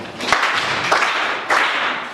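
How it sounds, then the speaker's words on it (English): A classroom of students claps for classmates after a poem discussion. It is a loose, uneven burst of hand clapping with a few sharper claps standing out, continuing steadily throughout. "Clap hands for them."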